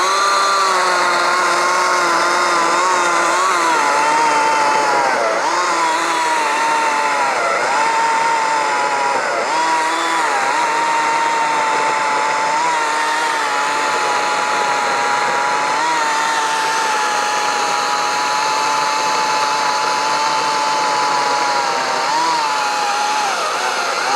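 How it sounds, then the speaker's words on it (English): A chainsaw with a dull, unsharpened chain drones loudly and continuously, its pitch dipping as it bites into a wet log, running without pause throughout. "I haven't sharpened this chainsaw in a while, so I don't know how it's gonna cut"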